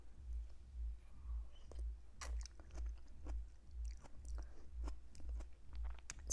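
Close, quiet chewing of slightly crunchy vegan noodle soup with herbs, a steady rhythmic jaw beat of about two chews per second with faint crunches and mouth clicks, with no talking.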